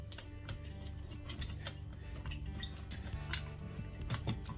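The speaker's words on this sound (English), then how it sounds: "Just going to sieve it out, squash all the juice out from it." Ginger and lemon detox water being pushed through a kitchen sieve, with close metallic scraping, clinks and taps of utensil against sieve and bowl, continuous and fairly steady throughout.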